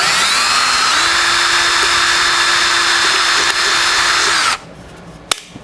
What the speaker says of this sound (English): Then you can either poke or drill a hole through your soda can here.